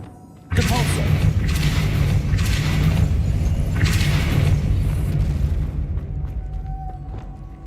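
A Depulso force spell cast in Hogwarts Legacy bursts out as a loud, sustained booming whoosh lasting several seconds with rumbling low end and pulsing crashes before fading.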